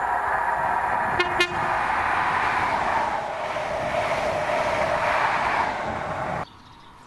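A ScotRail service from Aberdeen to Edinburgh hauled by class 43 power cars 43.130 and 43.137 passes at Monifeith with a loud, steady roar and a brief horn toot early on, then ends abruptly.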